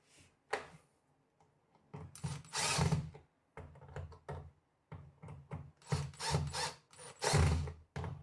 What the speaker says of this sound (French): Je pense qu'il me faudra un tournevis un peu plus fort